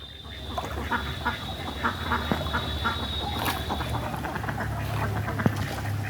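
A flock of about thirty domestic country ducks quacks steadily beside a village pond. The overlapping calls are loud and close, with continuous outdoor background noise.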